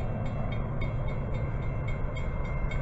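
Passing Amtrak train, a steady close rumble of rail cars rolling by with a faint rhythmic clatter over the tracks throughout.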